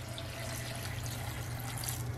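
Water or pork broth pours steadily into a kitchen blender with a continuous splashing, running-liquid sound. It is close and moderately quiet, with no talking.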